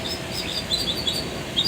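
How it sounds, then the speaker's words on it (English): Birds chirp outdoors in quick, light, scattered tweets, fairly faint against a steady hiss of ambient noise, with no voices. "Y'all hear the birds?"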